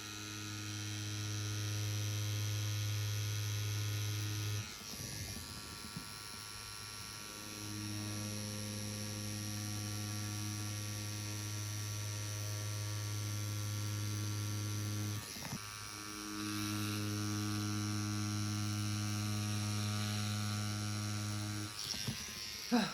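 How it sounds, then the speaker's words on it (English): A Bishop Wand Packer tattoo machine running while packing black, giving a loud steady electric buzz with a strong droning hum, briefly stopping and restarting twice, close up. "Wow, my machine is very loud right now."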